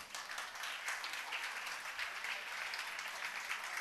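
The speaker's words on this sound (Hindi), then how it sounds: "तालियां में कंजूसी नहीं होनी चाहिए।" Steady, dense applause from a large audience at an annual day school function, heard at a moderate distance and continuing evenly throughout without speech.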